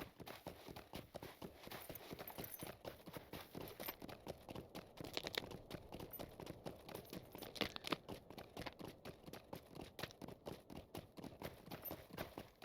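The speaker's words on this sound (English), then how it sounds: "I like the crunching sounds of the ice and snow." Footsteps crunching over ice and snow in the game LOTRO, a steady, fast rhythmic series of crisp crunches at an even pace, fairly quiet and continuous with no talking.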